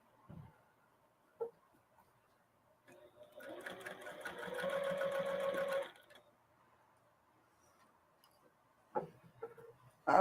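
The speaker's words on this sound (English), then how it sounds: "I'm just going to stitch across." A sewing machine stitches across a reversible holiday handbag in one steady, close whirring run of about three seconds, framed by quiet pauses and a speaking voice.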